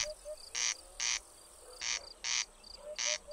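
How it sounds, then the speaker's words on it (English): A corncrake's rasping, mechanical two-part call repeats in rhythmic pairs of harsh bursts, moderately distant, with faint chirps between them. "territorial corncrakes constantly call from dusk to dawn with their loud, mechanical, two-syllable hoarse croaking"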